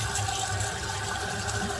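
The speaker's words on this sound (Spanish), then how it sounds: "Bueno, vamos a ver si podemos meterle agua calentita a esto. Vamos a dejar correr un poquito." Hot water running steadily from a tap while filling, a continuous even rush with faint gurgling, fairly close and alone with no talk.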